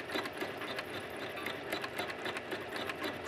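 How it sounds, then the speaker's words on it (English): A home embroidery sewing machine stitches through jeans held in a hoop, giving a fast, steady mechanical whir of needle strokes at close range. "just hold your hands on the hoop and start embroidering"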